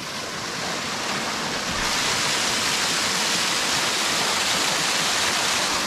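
A constant, dense rush of spring water gushing straight out of a mountainside in the Victorian High Country, loud and close, with no pauses.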